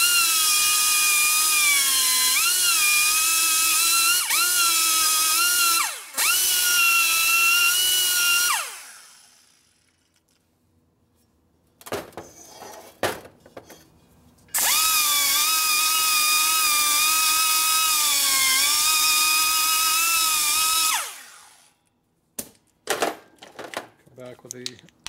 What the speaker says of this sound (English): Back with the fine one, do the final deburring underneath here.